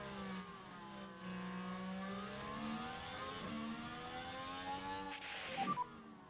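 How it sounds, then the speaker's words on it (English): An F1 car in the racing game F1 Manager 2024 accelerates along the start-finish straight, its engine note climbing steadily in pitch as it passes, moderately loud with a brief sharper burst near the end. "Look how quick that car is"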